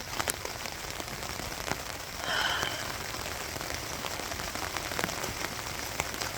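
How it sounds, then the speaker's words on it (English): Heavy rain drums steadily on a tent, a dense, continuous patter of drops close overhead with a brief heavier surge partway through. "So it's absolutely chucking it down. I don't want to get out of this tent."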